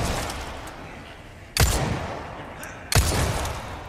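Two sharp gunshots in the video game Resident Evil 4 Remake ring out about a second and a half apart, each with a booming echo decaying over a low rumbling background.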